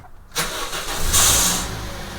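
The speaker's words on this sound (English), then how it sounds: "noise of grinding gears caused by the gear of the starter motor, the bendix gear, not retracting quick enough" An engine cranks and catches with a harsh metallic grinding whine partway through as the starter motor's bendix gear fails to retract quickly and grinds against the flywheel, then settles into a rough running drone, close up.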